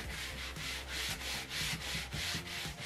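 A small brush scrubs old fabric off a screen printing platen in quick, even back-and-forth strokes, about four per second, close and rasping with nothing else heard.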